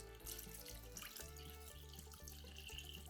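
One liter of water pours into a pan of tomatoes for a homemade lasagna sauce, a steady close splashing stream that runs continuously under faint background music without talk.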